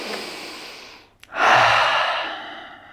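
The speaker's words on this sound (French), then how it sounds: "deux grandes expirations par la bouche" A deep breath out through the mouth during a yoga session, heard close up: a fading breathy exhale, a brief pause, then a strong, loud exhale that slowly tails off.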